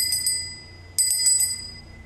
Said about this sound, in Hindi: अब ये एक ये घंटी है, अब घंटी से भी जो आवाज़ निकल रही है